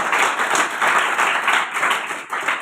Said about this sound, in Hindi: ये अपने लिए तालियां बजाओ।